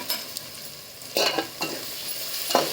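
Chopped tomatoes going into a hot spiced masala for prawn rice, soft background sizzle broken by a few sharp scrapes and clinks of a spoon against the pan.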